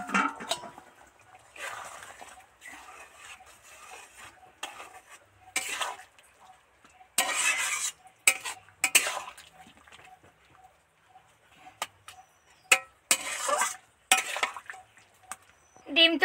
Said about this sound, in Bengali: নিবু হাঁচে টুকবুক টুকবুক করে ফুটছে